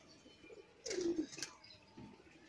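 A Jiria Madrasi pigeon, one of a pair offered for sale, gives a short, soft coo near the middle of an otherwise quiet moment with faint background noise.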